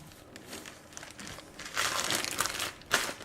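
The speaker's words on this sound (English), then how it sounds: "you're going to go ahead and put these inside of a bag and let it rest in a Ziploc bag" Plastic crinkling from a Ziploc bag handled while empanada dough goes inside, soft rustles building to louder crackly bursts near the end, close and without talk.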